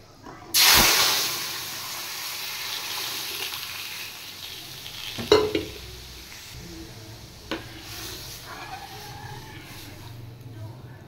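Dry red chillies, bay leaf and panch phoron drop into hot oil in a kadai with a sudden loud sizzle that settles into a steady hiss, with a few later crackles and clinks.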